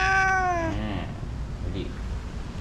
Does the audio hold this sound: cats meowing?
yes